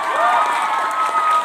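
Short, dense applause mixed with cheering from an audience at a motivational event, steady and fairly close, with scattered shouts on top of the clapping.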